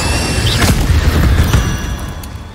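A fiery Incendio spell explodes in Hogwarts Legacy, a couple of loud, booming bursts of blast over a dense, rumbling game soundscape.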